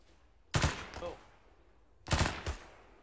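Gunfire in ArmA 3 comes as two separate short volleys, each a pair of sharp cracks with a rumbling tail and quiet gaps between.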